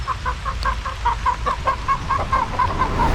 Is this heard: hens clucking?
yes